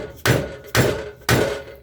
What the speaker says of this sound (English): I like to give them a whack with a hammer or put a pipe on here just to make sure they go.